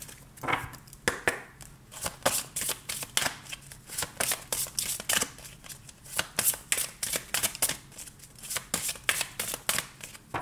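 Tarot cards shuffled by hand for a personal-development reading, a long run of crisp riffling flutters and snaps repeating steadily at close range, with no voices over it.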